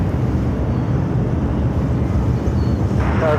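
A Delta heavy airliner takes off from Phoenix airport, a loud, steady low engine roar with wind buffeting at the microphone and no voices.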